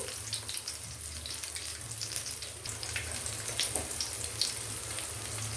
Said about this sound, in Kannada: ಮೆತ್ತಿಗೆ ಎಣ್ಣೆಯಲ್ಲಿ ಬಿಡಿ